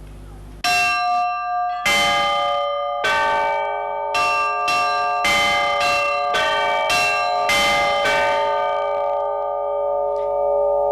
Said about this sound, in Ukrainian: Середня група підзвонних.